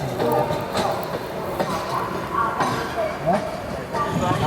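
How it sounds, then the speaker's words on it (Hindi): The Lucknow Pune Express rolls into a station with a continuous low rumble and rhythmic wheel clatter over the rails, fairly loud and close, while people talk in the background. "तो ये आ गई लखनऊ पुणे एक्सप्रेस"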